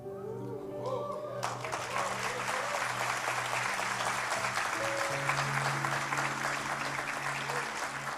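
A church congregation bursts into sustained applause partway through, the clapping dense and steady under a lingering sustained tone that fades in and out.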